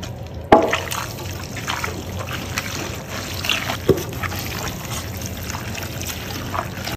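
Mac and cheese is stirred in a pot, making soft wet sloshing and squelching with a couple of sharper knocks from the spoon, fairly quiet and close, with no voices.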